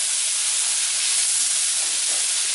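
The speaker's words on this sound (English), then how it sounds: "I'm going to add my bacon in here. And I'm just going to mix it up." Bacon added to a hot pan of Brussels sprouts with minced garlic and stirred, giving a loud, continuous steamy hiss and sizzle with no clear individual stirring sounds.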